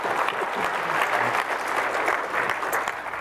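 Applause closing a JavaScript music-playing demo, a steady dense wash of clapping that holds evenly from start to finish, moderately loud and close, with no voices standing out.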